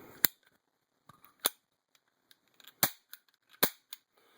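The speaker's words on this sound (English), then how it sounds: "pretty heavy trigger pull, double action" The heavy double-action trigger of a WWII MK 8 37mm pyrotechnic flare pistol snaps sharply four times at uneven intervals, each loud metallic click followed by small mechanism ticks in otherwise quiet surroundings.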